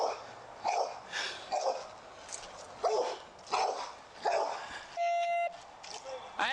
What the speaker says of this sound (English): but the dogs are mauling the body.